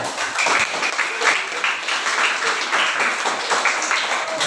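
Classroom applause for the first student group, a full, continuous round of many hands clapping at steady loudness, with no pause from start to finish.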